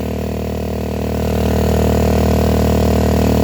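The Hammerhead's engine runs on its first start with a stuck throttle, giving a loud, steady drone close by that swells slightly after the first second and then holds even, with no voices.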